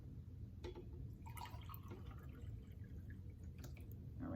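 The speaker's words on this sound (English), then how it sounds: "I'm gonna pour that one into this cup now" Salt water at roughly 3% salinity being poured from one container into a cup in a kitchen, a steady close trickle with a few small drips and splashes and no talking.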